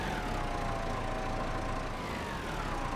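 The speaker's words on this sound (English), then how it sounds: "And we'll just back the tractor onto the service ramp so we can get underneath it" Tractor engine idling in Farming Simulator 25, a steady low rumble held at an even level throughout with a faint tonal whine drifting above it and no talk.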